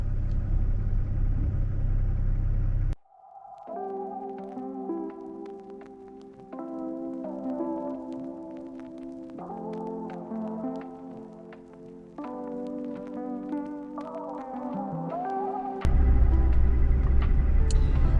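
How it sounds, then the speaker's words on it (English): A truck cruising slowly through a residential neighborhood, with a low engine and road rumble at the start and again at the end. In between, steady melodic music plays over the drive. "All right, let's drive around the neighborhood."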